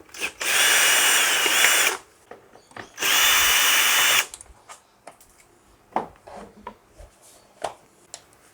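Two loud bursts of a power drill undoing six 4mm Allen key bolts on the airbox lid of a KTM 390 Adventure, each lasting over a second, followed by small clicks and handling noises.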